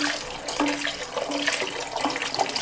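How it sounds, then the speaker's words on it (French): Broth poured in a continuous splashing stream into a pot of potato, corn and ham soup, a close liquid gurgle lasting a couple of seconds with faint clinks. "Et ensuite, on va ajouter notre bouillon."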